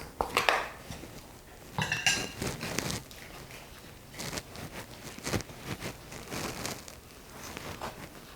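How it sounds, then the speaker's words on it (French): A wooden spoon mixes dried-fruit cake batter in a bowl, with irregular scraping strokes and occasional clinks against the bowl, close and moderately loud, no talking. "Et je mélange. Avec la cuillère en bois, c'est mieux."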